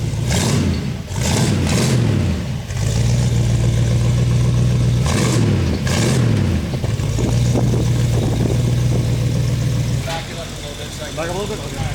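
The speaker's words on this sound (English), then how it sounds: "Give her some gas." Car engine after a carburetor to fuel injection conversion, idling steadily with several sharp revs close by while people talk over it.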